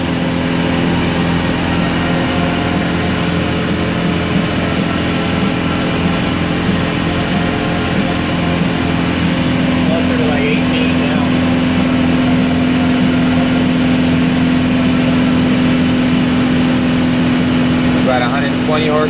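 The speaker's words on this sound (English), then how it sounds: "I know the engine feels a little sluggish." A stock Cummins 4BT diesel engine with 18 psi of boost runs hard through a dyno pull, a loud, steady droning roar with a constant hum that holds for the whole stretch.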